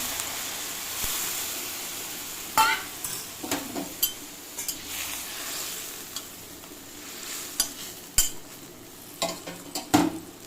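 Water poured into a pan of cooking radish and fish curry, which hisses and sizzles, followed by repeated scraping and clattering of a spoon stirring against the pan in irregular bursts.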